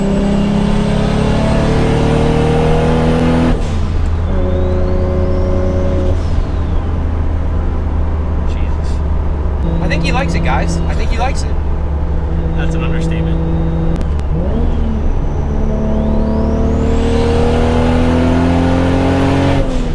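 A Toyota Supra, rear-wheel drive, accelerates hard from inside the cabin, its engine rising through gear shifts with a loud steady drone while people talk and laugh over it.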